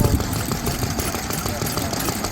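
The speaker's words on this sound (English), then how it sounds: "You hear the mechanics rattling and clanking more than the exhaust on this one." A Ruston Hornsby side shaft vintage engine runs steadily at a machinery club rally, its mechanics rattling and clanking in a continuous close rhythm that outweighs the quiet exhaust.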